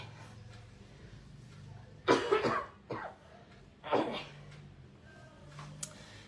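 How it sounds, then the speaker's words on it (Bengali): A person coughs in three loud, rough bursts spaced about a second apart, with a quiet room tone between them and no talking. "আরে কাশি রে"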